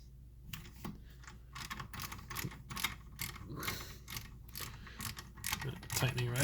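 Ratcheting clicks from a wrench tightening bolts during an Akebono big brake upgrade on a Nissan 300ZX Z32, a steady run of close mechanical clicks and metallic ratchet strokes with a louder burst near the end.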